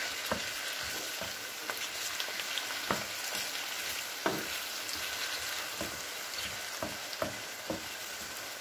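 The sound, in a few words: tomatoes frying with onion mixture in a pan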